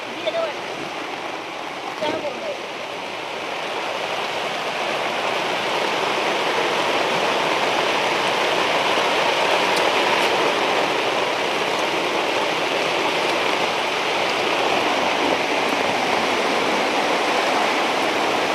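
Floodwater after heavy rain rushes down from a mountain as a broad, constant roar that holds strong and close, with voices faintly in the background.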